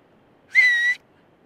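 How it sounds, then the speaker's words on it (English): One short, clear, high-pitched whistle blast from a surf instructor's safety whistle, close and loud, with silence around it. "So if you hear us with the whistle, we'll all be carrying a whistle"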